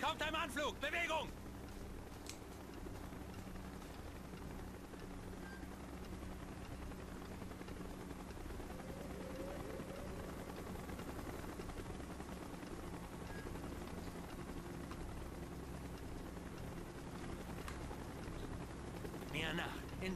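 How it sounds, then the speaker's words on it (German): A helicopter drones steadily through a Call of Duty Black Ops mission in a continuous rotor-like rumble, with someone talking over it now and then. "Helikopter im Anflug!"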